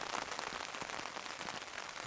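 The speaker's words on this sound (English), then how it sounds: "So you're under tarp now, away from rain. I'm out in rain." Steady rain falls outdoors around a simple camping tarp shelter, a dense continuous patter with scattered heavier drops, fairly close and alone without talk.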